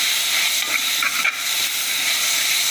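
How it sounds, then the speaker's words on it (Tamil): Tomatoes sautéing in a hot pan for tomato rice, a loud continuous hissing sizzle with a couple of brief stirring bumps, no talk. "இப்போ இருந்து நம்ம தக்காளியும் போட்டுக்கலாம் தக்காளி வதங்கட்டும்"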